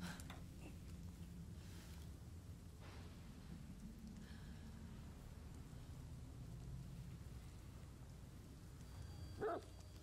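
Dog barking in the horror video game The Medium, heard faintly amid a steady low ambient rumble with rain-like texture, with a brief louder burst near the end.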